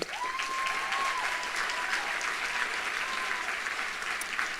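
Steady applause from an audience at a university nursing graduation ceremony, a dense continuous patter of many hands filling the room, with a faint tone briefly audible beneath it.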